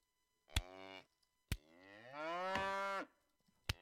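A cow in a medieval settlement video game moos in three drawn-out calls, the middle one longest, separated by sharp clicks of game sound effects.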